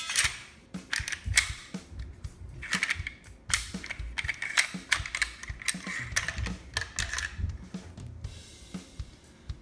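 A WASR-10 AK-pattern rifle is field-stripped up close, giving a run of sharp metallic clicks and clacks from parts being pulled and handled, fairly quiet with no talk.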